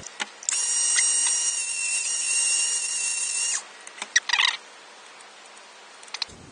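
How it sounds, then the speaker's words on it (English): Rotary tool with a cutoff disc cutting a plastic post inside an Easy Button, a high whining grind lasting about three seconds, followed by light clicks and handling noises close by. "I'll just cut that off at the cutoff disc as well"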